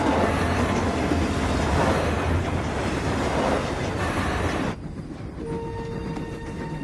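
A cartoon train pulls away with a steady, loud rolling rumble of wheels on rails that abruptly cuts to a quieter background hum with a faint sustained tone.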